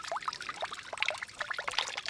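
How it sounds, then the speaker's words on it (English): Cold, fresh well water trickling and pouring through a log into a pond, a faint, close, bubbly splash with irregular droplet plinks and no voices. "it's nice cold water feeding the pond"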